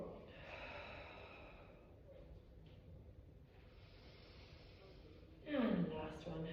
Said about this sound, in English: Deep breath out to lift and bend.